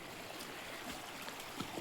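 Rain-swollen stream water flowing after heavy rain, a steady close rushing wash with soft gurgles and splashes throughout, no voices.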